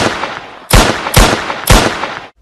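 Three loud gunshot sound effects ring out in an even rhythm about half a second apart, each a sharp crack with a short decaying tail, over a faint steady hiss.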